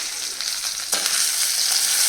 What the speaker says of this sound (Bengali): ওদিকে ভেন্ডি ভাজা হচ্ছে